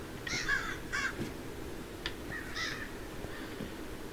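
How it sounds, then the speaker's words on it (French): A crow caws in the survival horror video game From The Fog, giving a few raspy calls, two close together and then a later pair, over a steady hiss of ambient game noise. "lui, c'est le corbeau"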